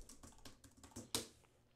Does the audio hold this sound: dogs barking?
no